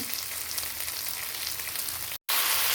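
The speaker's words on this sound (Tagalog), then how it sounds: "ilalagay na natin yung ating chicken feet. Okay? So, igigisa-gisa lang natin yan." Chicken feet sauté in a hot pan for dim sum, a steady close hiss of frying that runs evenly, cuts out for a split second, then resumes as loud as before.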